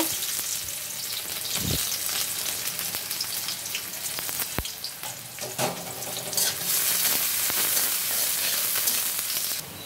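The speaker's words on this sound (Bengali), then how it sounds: "দেখো পেঁয়াজ ভাজা হয়ে গেছে" Onions sizzle steadily in a hot pan for egg bhuna, with occasional sharp clinks and scrapes from stirring over the continuous frying crackle.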